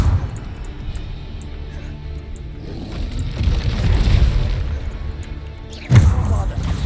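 A Bombarda spell detonates in Hogwarts Legacy with a heavy, rumbling boom amid continuous spell-combat noise, and a second sharp blast lands near the end, under a voice casting spells.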